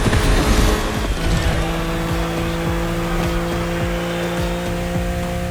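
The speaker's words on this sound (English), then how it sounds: "Back with the BMW M4 Liberty Walk Edition." A BMW M4 Liberty Walk Edition drives in The Crew Motorfest, its engine holding a steady loud drone with rising and falling pitch as it shifts through gears, with a brief tire squeal near the start.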